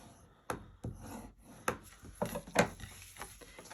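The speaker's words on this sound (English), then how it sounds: "I'm just going to fold in at both of these score marks, and I will burnish those edges." A tool burnishes the folded score lines of a paper card, giving a series of short, soft rubbing and scraping strokes at uneven intervals, close and quiet, with no talk.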